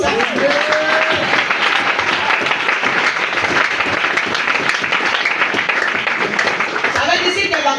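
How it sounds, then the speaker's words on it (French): A church congregation at a Pentecost seminar cheers and applauds the Lord, dense sustained clapping and crowd noise filling the whole stretch, loud and close, with a few voices rising through it. "Est-ce que tu peux acclamer le Seigneur pour ça?"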